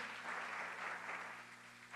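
A church congregation claps steadily and loudly for the full two seconds, a dense wash of applause with no voices standing out.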